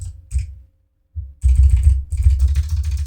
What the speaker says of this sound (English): Hopefully people love the frenzied clicking of my keyboard as much as I do.